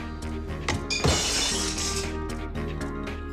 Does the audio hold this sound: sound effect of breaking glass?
yes